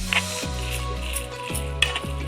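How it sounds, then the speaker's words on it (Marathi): Mashed potato being stirred into chicken mince mixture for tikki, a steady close scraping and stirring with a few spoon clicks against the pan, over a continuous low hum. "आता आपण हे सगळं एकजीव करून घेऊया। असं आपण मिक्स करून घ्यायचं आहे।"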